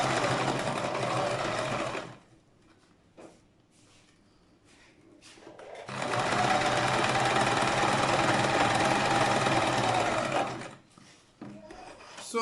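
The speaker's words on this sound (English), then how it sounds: "So as we finish sewing it together, you turn it round" A sewing machine stitches a homemade hat in two long, steady whirring runs, close and loud, separated by a quiet pause with a few small handling clicks.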